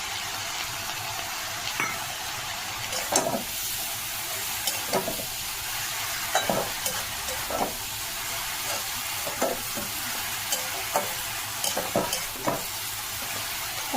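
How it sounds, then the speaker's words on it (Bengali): Cumin, coriander, ginger, Kashmiri chilli and turmeric powder frying in a pan, a continuous close sizzle punctuated by regular scraping clicks of a spatula stirring roughly every second, no voices. "এটা আমি একটু ভাজা ভাজা করে নিয়েছি, জিরে ধনে আদা আর কাশ্মীরি লঙ্কাগুলো আর হলুদ গুঁড়ো"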